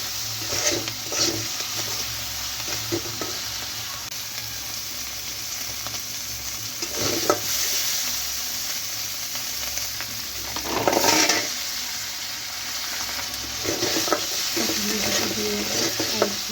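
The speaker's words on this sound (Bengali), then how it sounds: "মশলাটি কষানো হয়ে গেলে কাঁঠালের বিচি দিয়ে দেব।" Spices with salt and turmeric stir-fry in a pan with jackfruit seeds for a fish curry, a steady sizzle broken by several louder scraping stirs and clatters, with no talk.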